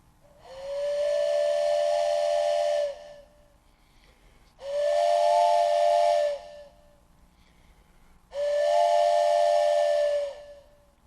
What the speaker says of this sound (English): A hard whistle driven from sound to melody and back to sound and then to melody again.